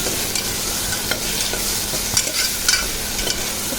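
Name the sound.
stirring chopped brinjal, potato and carrot in a pan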